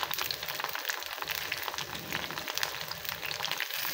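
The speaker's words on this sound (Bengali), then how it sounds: "আমি এদিকে এগুলো ভেজে নিচ্ছি" Chicken frying in a pan gives off a steady, close, crackling sizzle that carries on without a break and with no talk over it.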